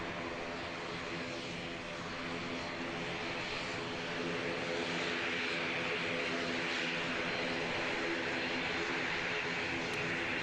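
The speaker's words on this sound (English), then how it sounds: "this PC-12 is going to taxi down runway 11" Pilatus PC-12 turboprop taxiing at Christchurch Airport, a steady broadband engine drone with a constant hum and faint hiss, moderately distant and continuous, rising slightly partway through.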